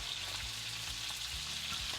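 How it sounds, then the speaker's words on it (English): Chicken thighs fry skin side down in a skillet for a Mediterranean braised chicken dish, giving a steady, dense sizzle and crackle that runs close and even throughout with no voices. "I'm just letting them cook skin side down in the skillet for 3 minutes"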